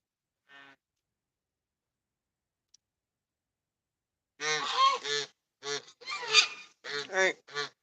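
Geese honk in a farmyard in several loud, close bursts over the second half, after a brief faint call near the start and a short gap of near silence.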